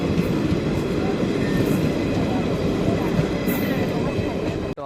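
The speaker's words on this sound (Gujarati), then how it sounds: "લાસ્ટ સ્ટોપ આવી ગયો અને જો ટ્રેન આપણી ચાલતી થઈ ગઈ છે" A passenger train pulls out of a station, a loud, continuous rumble of rolling wheels and carriage noise heard from on board.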